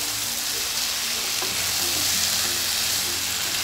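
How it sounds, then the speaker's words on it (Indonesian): Chicken stir-frying in a pan for spicy Indonesian pepes with basil, a steady loud sizzle with faint scraping and stirring clicks throughout, no voices. "Kita tumis sampai ayamnya berubah warna"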